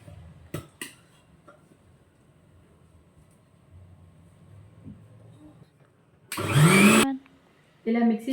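A mixer grinder blends soaked phool makhana into a paste, cutting in as one loud, whirring burst of under a second, followed by a second short pulse after a near-silent stretch with faint kitchen knocks.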